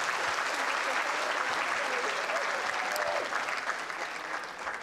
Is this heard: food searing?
no